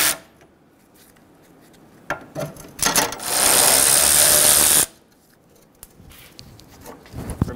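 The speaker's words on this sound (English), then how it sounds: "Using a 10 millimeter socket, remove the bolt on the upper middle radiator support." A power tool with a 10 mm socket spins out bolts from the radiator support of a 2011-2014 Hyundai Sonata, with short bursts, one sustained loud whir, then quiet clicks and handling noises.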